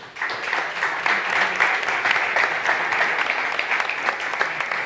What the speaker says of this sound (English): I would like to kind of provide a big applause for our speakers today.